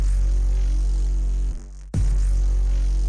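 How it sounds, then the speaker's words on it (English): A kick drum layered with an 808 sub bass in a production, heavy, droning low-end bass that drops out briefly before a punchy kick hits and the deep sub swells back in. "So essentially the kick / 808 combo sounds like this"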